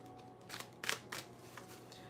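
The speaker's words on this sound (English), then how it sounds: "I'm going to shuffle a little more." Tarot cards being shuffled by hand during a reading, with a few soft riffling bursts over a quiet background and no talk.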